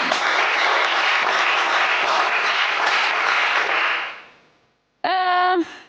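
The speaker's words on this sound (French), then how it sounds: "Et ça s'applaudit, évidemment." Loud, dense applause from a TV game show studio audience, sustained for about four seconds before fading out, followed by a short bright musical tone.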